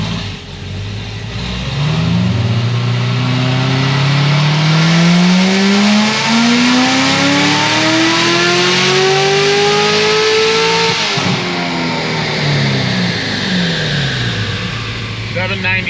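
Chevrolet Corvette C7 Z06 on a dyno pull, the engine sweeping steadily upward in pitch for around ten seconds before dropping off, loud and close, with some talking over it.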